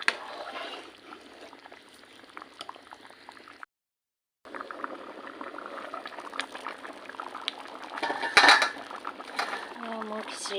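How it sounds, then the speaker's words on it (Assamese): Khichdi bubbles and simmers in a pot on the stove, a steady, close, moderately quiet boiling with faint clinks of a lid or utensil, a brief silent gap, and a slightly louder clatter near the end. "মোৰ খিচিৰিখিনি ধুনীয়াকৈ উতলি আছে।"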